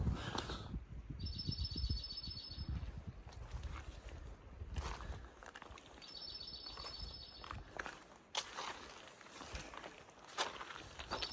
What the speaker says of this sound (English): I think I could listen to birds all day.